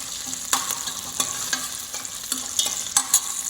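Bacon sautéed with a bay leaf sizzles in a pot while a spoon scrapes and stirs it in irregular strokes, close up with no talk.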